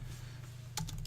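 A short run of keystrokes on a computer keyboard, a few quick taps close by over a low steady hum.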